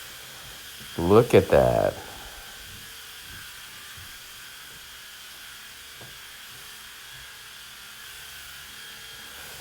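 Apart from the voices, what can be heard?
pump sprayer spraying cleaning solution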